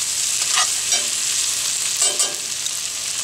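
Italian sausage, peppers and onions sizzling in a pan, a steady hiss of frying broken by a few short scraping stirs.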